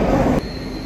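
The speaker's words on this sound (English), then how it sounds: "I'm just waiting for the metro" A loud, close Moscow metro train roars with rushing rail noise for under a second before dropping to a lower rumble.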